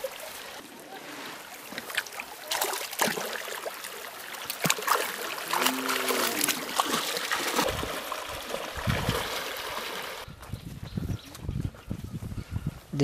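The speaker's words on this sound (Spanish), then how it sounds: "Después de vadear el río," Water splashes and churns as people wade across a river outdoors, a continuous rushing, sloshing wash with uneven surges, fairly faint and without talk.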